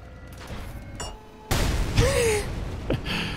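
Primary weapon fire from the ULTRAKILL arsenal update: a sudden loud blast opens a sustained burst of mechanical gunfire with a rising whine and a later sharp shot, all in a busy game soundscape.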